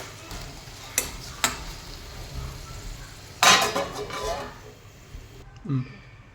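A spoon stirring Chikkudukaya (broad bean) curry in a pan while cooking in an old Telangana style, with a few sharp metallic clinks, a longer scraping stir in the middle and a quiet simmering background.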